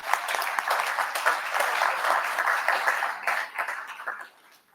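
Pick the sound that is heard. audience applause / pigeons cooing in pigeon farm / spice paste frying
audience applause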